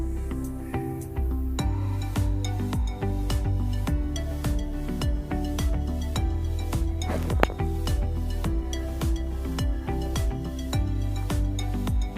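A spoon clinks and scrapes steadily against a bowl or pan while melted jaggery is mixed into batter, a close, regular rhythm of metallic taps and stirring with no talk.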